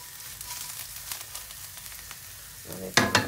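Garlic and mushrooms cooking in a large pan give a soft, steady sizzle with faint crackles, then a few louder scraping clatters near the end.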